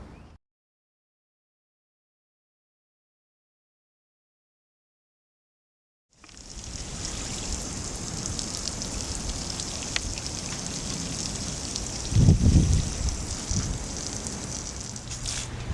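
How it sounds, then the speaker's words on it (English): Water poured into a planting hole prepared for a native serviceberry shrub: after several seconds of silence, a steady splashing, gushing stream starts and runs on, swelling louder briefly near the end, with no talking. "We're now going to water the hole."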